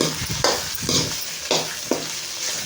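Spinach frying in oil is stirred in a pan, with several scraping strokes of a spoon over a continuous nearby sizzle.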